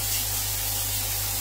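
Dried chillies, cumin and chopped onion fry in hot oil, giving a steady, even sizzling hiss that holds without a break for the whole moment.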